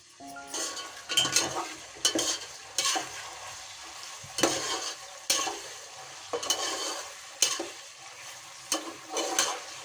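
Two tomatoes go into sizzling dum biryani masala in a home kitchen pot, followed by a run of sharp, repeated spatula scrapes and stirring strokes over a continuous close frying hiss, with no voices.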